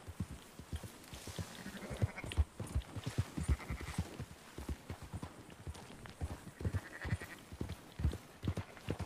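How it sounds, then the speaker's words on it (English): Sheep bleat in Red Dead Redemption 2 while a flock is herded, a steady stream of overlapping animal calls mixed with hoof clatter, fairly close and unbroken through the stretch. "Marston, why don't you leave the sheep to me"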